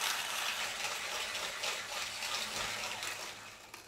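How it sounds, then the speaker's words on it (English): Wacaco Exagrind hand grinder crushing espresso beans, a steady, close, gritty crunching and rasping that continues throughout and tapers slightly toward the end. "you can feel the last few beans being ground"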